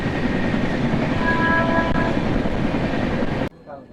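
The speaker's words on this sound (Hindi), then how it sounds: "वैप 7 फुल एक्शन में।" A WAP-7 electric locomotive hauls the Ahmedabad Express, a loud continuous rumble with a sustained horn tone in the middle, cutting off abruptly to quiet near the end.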